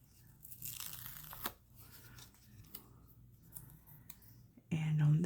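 Craft stickers being handled and peeled while decorating a Christmas project, with soft tearing, crinkling and clicking sounds close by and a louder burst near the end.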